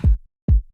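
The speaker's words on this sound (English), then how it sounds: "Nothing fancy, just a basic kick drum." Two punchy electronic kick drum hits, compressed and EQ'd, each a deep thump with a quick downward pitch sweep, spaced about half a second apart and heard alone.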